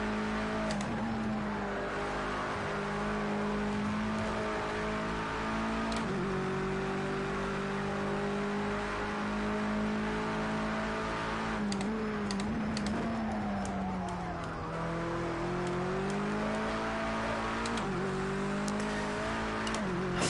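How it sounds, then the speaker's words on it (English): A turbocharged car engine accelerates hard on a racing circuit during laps: a loud, continuous engine roar that climbs and falls in pitch through repeated gear changes, close and steady, with no talking. "I think it has a turbo, because the way the engine responds is really weird."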